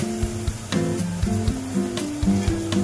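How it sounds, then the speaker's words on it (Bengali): Chopped ginger sizzles in a pan while being stirred, giving a steady close hiss broken by light scraping taps, with a tonal melody running alongside. "এবার আমি দিয়ে দিলাম কুচিয়ে রাখা আদা কুচি রেখেছিলাম। আদা কুচি একটু নেড়ে দেবো।"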